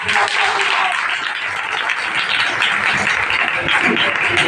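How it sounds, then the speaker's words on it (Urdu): Loud applause from a congregation at a Sunday church meeting in Pakistan, a thick sustained roar of clapping with some crowd murmur mixed in. "زوردار تالیاں"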